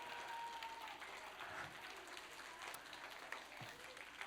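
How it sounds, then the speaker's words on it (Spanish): A children's audience applauding at a kids' science clown show, a faint, steady wash of many small hands clapping, heard from a distance without voices. "veo que lo de aplaudir lo habéis pillado bien"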